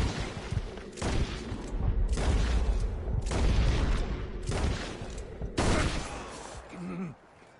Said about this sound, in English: You shot me. You shot me pretty good.